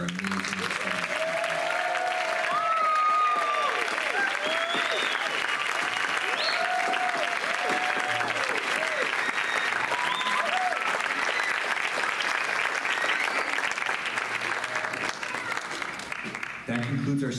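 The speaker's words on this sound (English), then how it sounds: "Please join me in one more round of applause for our amazing staff" Sustained applause from a large crowd at a teachers' awards ceremony, steady clapping filling the whole stretch with a few voices and cheers mixed in.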